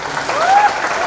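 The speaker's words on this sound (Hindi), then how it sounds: "ओम प्रकाश जी के लिए एक बार फिर से हाथ उठाकर हवा में जोरदार तालियां होंगी" Audience applause for Om Prakash at a Miss India event, a brief steady burst of many hands clapping together at moderate loudness.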